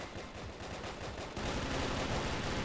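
Rapid bursts of gunfire in the Brick-Force shooter, repeating quickly in a dense, steady stream at fairly low volume and swelling slightly louder halfway through.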